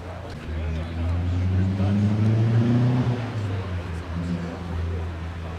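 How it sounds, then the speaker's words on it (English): At a Japanese car show, a rotary-engined car runs with a steady low droning hum that swells and eases slightly, with people chatting over it throughout. "Rotary engine, man."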